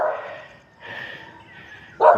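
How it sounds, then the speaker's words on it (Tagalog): Dogs bark near a residential area of houses with scenic views: a few short, sharp barks come in bursts with pauses between them, the last one louder and closer. "May mga aso pa."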